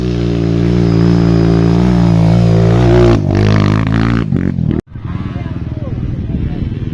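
A KTM dirt motorcycle's engine revs hard on a climb at a trail riders' meet near a waterfall, a loud sustained drone that cuts out abruptly, then resumes lower with voices talking over it.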